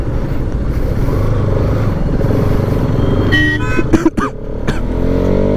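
A Bajaj RS200 motorcycle rides along with a steady engine drone, then rising revs and a couple of sharp bursts as it accelerates, loud and close, with a brief horn-like toot and no talk.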